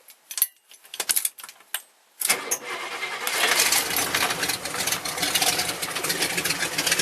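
A few clicks and sputters, then a Buick GS engine cranks and catches, settling into a loud, steady rumbling idle through a 3-inch exhaust with cherry bomb glasspack mufflers.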